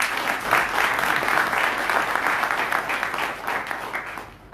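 Hearty audience applause at a chartered accountants' professional development programme, sustained dense clapping from a room full of people that eases slightly toward the end.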